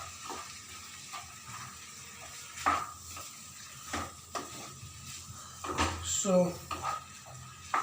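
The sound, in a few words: mixing salt into poha (flattened rice) in pan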